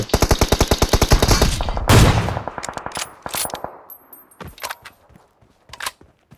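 Rapid automatic gunfire in PUBG Mobile on the Erangel map, a fast loud burst of evenly spaced shots followed by a sharp blast and scattered single shots and clatter trailing off.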